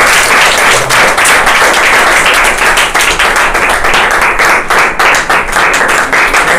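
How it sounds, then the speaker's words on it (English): Dense, steady applause from an audience at an office monthly rewards and recognition ceremony, clapping loudly and continuously for the whole stretch with no talk over it. "Please clap for them guys."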